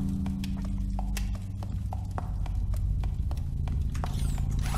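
Footsteps in the horror video game Twilight Escape: a steady run of sharp, hard-edged steps on a wooden floor over a low droning ambience, loud and close, with no talk.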